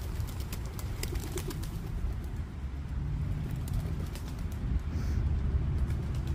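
Low, muffled pigeon coos murmur steadily through a dull outdoor rumble, with no voices and a few faint clicks and taps.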